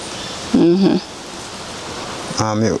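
Steady rain falls outdoors as a broad, even hiss throughout, with two short bursts of speech breaking over it.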